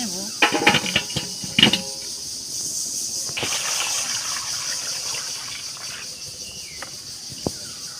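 Tomatoes being rinsed in running water, a steady gushing hiss with a few louder splashes near the start and a faint insect-like chirr underneath.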